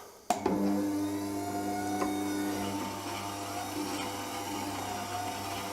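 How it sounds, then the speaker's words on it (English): A motorized leather honing wheel loaded with cutting compound starts up with a sudden jolt, then settles into a steady close whirring hum with a faint rising whine as a straight-edge blade is run back and forth along it. "I'm just running the blade back and forth along the honing wheel"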